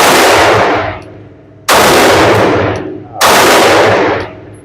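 A Palmetto State Armory Rock 5.7x28 pistol fires outdoors, its loud cracks arriving in three dense bursts separated by short pauses, each burst trailing off into a fading echo.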